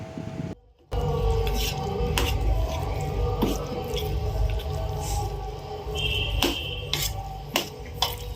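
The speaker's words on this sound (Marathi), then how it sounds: "वरतून तेलाची फोडणी घातली की चमच्याने छान हे मिक्स करून घ्यायचं आहे" A spoon stirs raw mango takku after an oil tempering has been poured on top, giving repeated wet squishes and light clinks of metal on a dish, close and fairly quiet.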